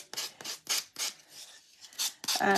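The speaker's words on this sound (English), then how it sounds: "sanding tool again to take the edges off of my paper" Rapid rhythmic rasping strokes of a sanding tool rubbing against paper edges, about eight quick passes, close and fairly quiet with no talking.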